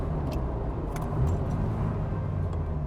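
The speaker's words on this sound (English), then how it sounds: "Downshifting." A 1985 Ferrari 308 GTS engine rumbles steadily from inside the cabin, a low continuous drone with no clear revving, as the car downshifts and slows through the gears.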